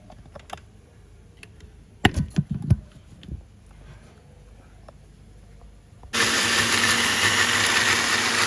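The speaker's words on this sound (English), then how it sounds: "we just blend till everything is smooth, or we have a smooth paste" After several seconds of clinks and clatter as spices and water go into the jar, an electric blender abruptly kicks on and whirs loudly and steadily, grinding them into a smooth paste for spiced plantain.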